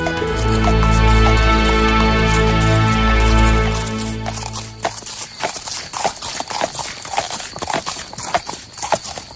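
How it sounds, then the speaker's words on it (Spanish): Horses' hooves clip-clop at a steady walking pace, with a neigh and a loud low rumble at the start that fades away, then close, crisp irregular hoofbeats continue on their own. "sin hablarse palabra se pusieron a caballo y se apartaron del famoso río"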